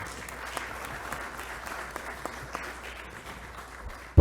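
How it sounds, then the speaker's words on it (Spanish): Audience at a political forum applauding, a dense, steady wash of clapping from a crowd that holds its level for about four seconds, with a loud thump at the very end. "para quienes pido fuerte voto de aplauso"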